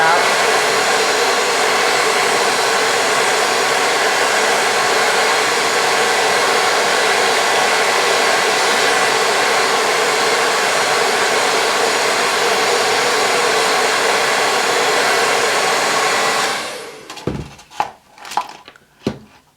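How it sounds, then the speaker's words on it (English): A handheld blow dryer roars steadily while drying hair on a red quick-weave wig, a loud continuous whoosh that cuts off near the end, followed by a few handling knocks. "And you can take your blow dryer and dry"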